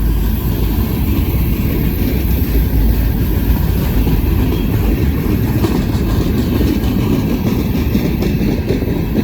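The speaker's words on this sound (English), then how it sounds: "This is a monster train." A roughly two-mile-long freight train rumbles steadily past, a continuous heavy roar with faint wheel clatter, loud and close throughout with no voices.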